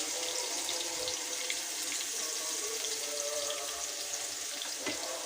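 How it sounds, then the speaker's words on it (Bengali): Chicken pieces fry with spices in hot oil in a pan, a steady, fairly quiet crackling sizzle that holds evenly throughout with no talking. "এখন দিয়ে সে ভাজা তেলের মধ্যে এটা চিকেনটা দিয়ে দিচ্ছি"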